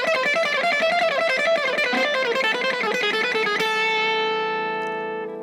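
Distorted guitar notes tumble quickly, then settle into a chord with open strings left ringing and slowly fading out.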